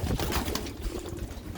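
Low pigeon cooing from young and breeding pigeons rumbles close by for a brief moment, soft and throaty, with some rustling around it.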